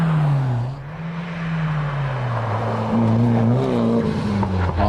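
A 1600 Datsun race car powers up a hillclimb course, its engine note loud and close, dipping briefly then rising and shifting pitch as it accelerates past and out of a hairpin.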